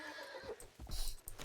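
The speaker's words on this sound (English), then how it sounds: "Horse." A horse in a video game whinnies with a bright, shaky neigh and a short burst of hoof clatter, loud and brief against soft game background sound.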